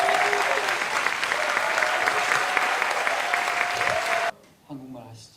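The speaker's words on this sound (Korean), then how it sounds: "여러분 뜨거운 박수로" An audience at an anniversary talk concert gives warm applause, with dense, sustained clapping for about four seconds that cuts off abruptly before a voice speaks briefly.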